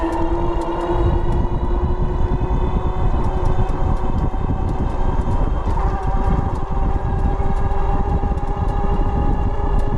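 HappyRun G70 dual-battery ebike in motion on the road: a constant broadband roar of wind across the microphone mixed with the hum of rolling tires, steady and close throughout, with faint ticking clicks on top and no talking.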